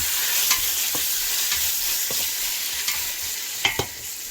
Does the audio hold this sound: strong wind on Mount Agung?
no